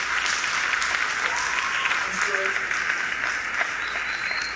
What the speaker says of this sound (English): can we get a round of applause for the people who teach things every day?